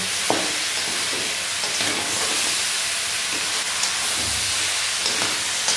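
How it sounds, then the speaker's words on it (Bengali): Crab pieces fry in a pan for a home crab curry, with a steady broadband sizzle and occasional scrapes and clinks as they are stirred, close and continuous with no voices. "এইভাবে আমি কাঁকড়াটাকে ভেজে নিচ্ছি"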